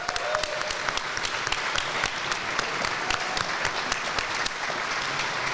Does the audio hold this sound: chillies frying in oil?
no